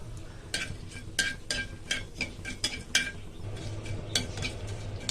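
Panch phoron and a dried chili frying in hot oil in a pan while a bitter gourd vegetable dish is cooked, quiet sizzling under repeated bright metallic clinks and scrapes of a spoon stirring.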